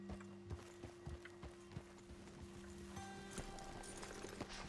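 Horse hooves clip-clopping at a steady trot in the video game Red Dead Redemption 2, regular close thuds over a low, constant background hum, with no talking.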